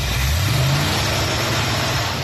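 A carbureted car engine with a Holley or Edelbrock carb revs up from idle, a steady, loud, close mechanical drone with a brief rise in pitch early on and no talking.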